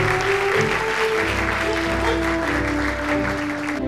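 An audience applauds a military speech contest's top-prize winner, an army artillery brigade corporal, with steady clapping that fills the room and no voices over it.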